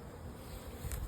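Honeybees buzzing around a hive at dusk as foragers return home, a close, continuous drone that swells louder near the end.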